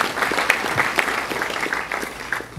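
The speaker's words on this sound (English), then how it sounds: "Clap hands for Jesus." A church congregation at a prophetic healing program claps hands for Jesus, a brief burst of lively, uneven applause with sharp individual claps standing out throughout.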